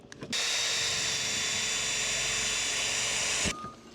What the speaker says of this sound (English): I'm going to go start drilling these holes